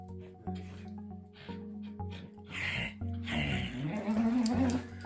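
A dog growls and snorts up close in short bursts, the sounds rising into a louder, more continuous stretch toward the end.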